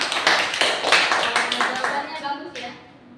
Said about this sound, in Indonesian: tepuk tangan untuk teman ini